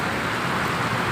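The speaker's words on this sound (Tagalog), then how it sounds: "Sobrang lakas ng ulan" Heavy rain pours steadily on a car while driving along EDSA in Manila, a dense, even hiss of drops drumming on the roof and windshield, loud and unbroken.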